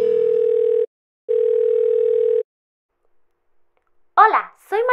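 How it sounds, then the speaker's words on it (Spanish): Two long steady beeps of a phone ringing tone sound in a toy-play setting, separated by a short silence. A voice then starts speaking near the end. "Mejor la llamo por teléfono."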